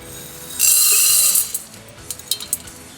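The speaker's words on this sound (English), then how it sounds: "once you feel your pot is pretty hot, it's time to add in the popcorns." Popcorn kernels are poured into a hot pot, a dense bright rattling rush lasting about a second, followed by a few scattered clinks as stray kernels settle.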